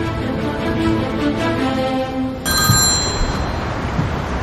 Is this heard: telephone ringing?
yes